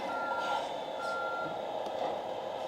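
A sound system on a handmade mini crane model emits truck-style reversing beeps, two long evenly spaced tones over a steady hum, close and moderately loud.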